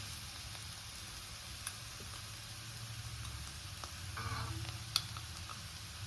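Onions frying in a pan over a medium flame, a quiet steady sizzle with faint crackles and an occasional small tick or stir, no talking.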